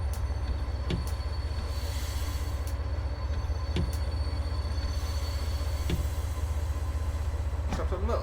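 A DB BR 363 shunting locomotive rolls along in Train Sim World with a steady low rumble throughout, marked by periodic sharp clacks of wheels over rail joints.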